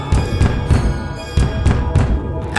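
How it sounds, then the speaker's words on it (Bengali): Repeated heavy thuds of someone pounding on a door in an audio drama, several loud irregular blows close up, each ringing briefly before the next knock lands. "দরজার উপরে ধাক্কাও থামল না"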